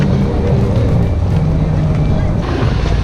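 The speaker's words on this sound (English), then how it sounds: "This bridge is so noisy. That's a quiet truck." A truck rolls across a noisy bridge, a steady broadband rumble with low droning engine tones holding loud and close throughout.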